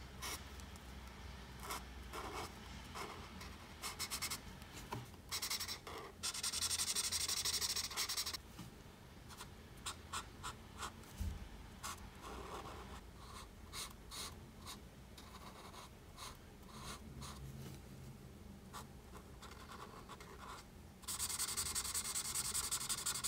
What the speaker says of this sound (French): J'utilise la couleur Poppy pour colorier le plus gros du dessin, la peau du rhinocéros.